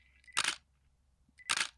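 A DSLR camera shutter fires twice, each a crisp mechanical clack-whir about a second apart, close and clear in a quiet room with no talking.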